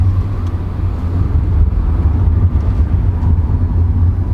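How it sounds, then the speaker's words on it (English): A SEAT Mii Electric car drives along with a low, steady tyre rumble and road noise, continuous and fairly loud, with no motor whine and no one speaking. "You do get a slight rumble of the tyres, but that's about it."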